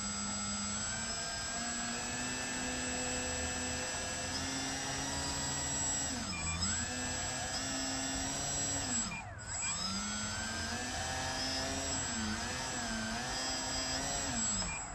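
Small XF1 Pogo prototype VTOL aircraft hovers with a steady high whining rotor drone that dips and rises in pitch a few times as it corrects, close and continuous.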